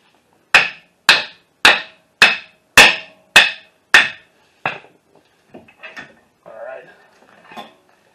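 Sharp metallic hammer blows driving a 2008 Toyota Solara front CV axle out of the steering knuckle, seven evenly spaced loud strikes followed by a few lighter taps and clinks, close and echoing.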